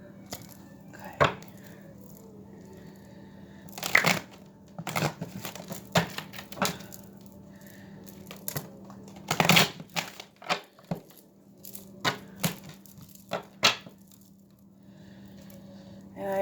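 Papery riffles and soft slaps of a card deck being shuffled, in irregular bursts over a steady low hum, close by with no talking.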